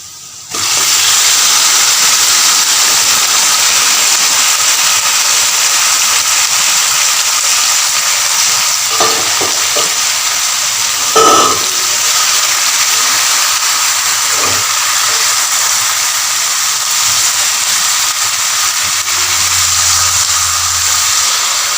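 Steady loud sizzling and hissing of marinated chicken and potatoes frying in a hot pan, continuous throughout with a few faint clinks.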